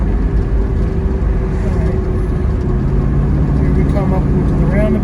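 A 1967 Pontiac GTO engine runs while driving, a loud, steady low rumble filling the cabin with a constant drone, with someone talking over it.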